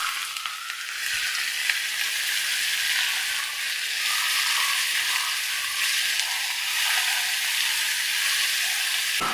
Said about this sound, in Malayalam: നല്ല പോലെ ഒന്ന് വഴറ്റിയെടുക്കാം.